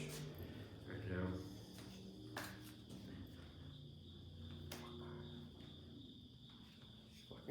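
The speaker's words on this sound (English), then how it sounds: "Fucking crickets out there" Crickets chirp outside at night with a thin, steady high trill that keeps going. Someone talks over it and a few thumps and knocks break in.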